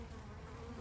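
Honey bees buzz around a Carniolan queen, a faint, brief, steady insect hum with a low drone alone and no talk.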